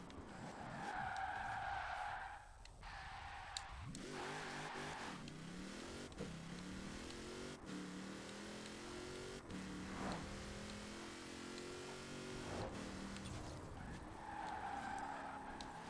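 A Toyota Supra races in Forza Horizon 4, its engine droning and shifting pitch as tires squeal through repeated skids, interrupted by several sharp gear changes, loud and continuous throughout.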